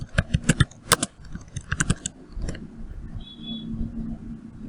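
Computer keyboard keys clacked in a quick irregular burst while a command is entered for an Asterisk PBX setup, crisp close taps clustered in the first two seconds, then trailing into quiet room hum.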